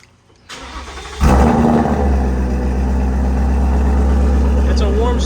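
The 5.0 V8 of a 2018 Ford Mustang GT fires on a warm start, a short crank bursting into a loud, deep roar that settles into a steady, rumbling high idle, close and dominant throughout.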